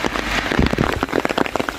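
Steady rain on a mountain trail, with dense, continuous patter of drops on the surrounding surfaces and a few heavier nearby splashes; no talking.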